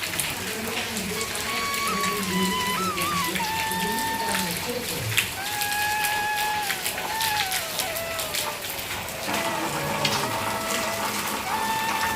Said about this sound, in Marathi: कारण तुम्हाला दिसत असेल चांगला पाऊस चालू आहे